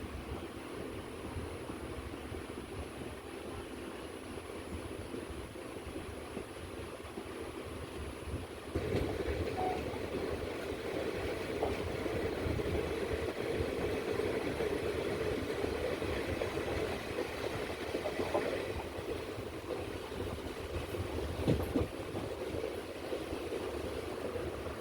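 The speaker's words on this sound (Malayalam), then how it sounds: "ധനുവച്ചപുരം റെയിൽവേ സ്റ്റേഷനിൽ നിന്ന് ട്രെയിൻ അങ്ങനെ എടുക്കുകയാണ്" A train pulling out of Dhanuvachapuram railway station in Kerala, a steady low rumble of wheels and carriage noise that swells after a few seconds and holds on, fairly distant and continuous, with no voices.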